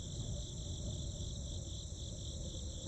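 Crickets in a video game chirp in a constant high-pitched trill, steady and unbroken over a low background hum.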